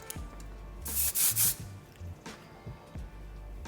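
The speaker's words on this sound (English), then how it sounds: "I'll get that locked in place with the Kenra Volume Spray 25" A few quick hissing bursts of Kenra Volume Spray 25 hairspray, close and loud, followed by faint rustling and handling noises.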